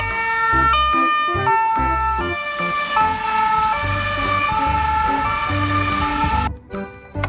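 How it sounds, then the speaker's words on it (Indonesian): A toy ambulance plays its electronic siren, a loud, close wailing and stepping tone pattern that runs continuously with mechanical clicks and handling noise near the end. "mobil ambulan"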